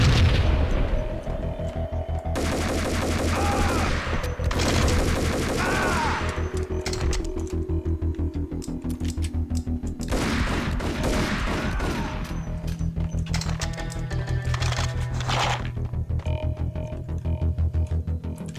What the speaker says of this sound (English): Karşılıklı mermileştik.